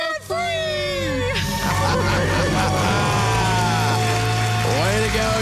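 A crowd yells a loud, sustained cheering debt-free scream at a live event, voices shouting together for several seconds after a brief lead-in.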